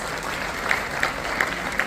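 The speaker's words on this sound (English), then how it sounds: "Please, parents, give them a big round of applause." Parents at a playschool annual day give a brief round of applause, a soft continuous patter of clapping heard from a distance with a few sharper claps standing out.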